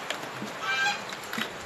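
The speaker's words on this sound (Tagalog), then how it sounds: "Nagsusurunod ang manok." A short, nasal honking call from a chicken, fairly close, against faint outdoor background noise.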